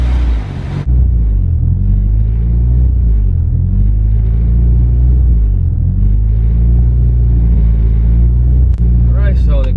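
A B14 Nissan 200SX SE-R with an idle-search fault is driven around the block. Its engine gives a steady, close, low droning rumble that rises and falls gently with speed, after a brief burst of broadband noise at the start.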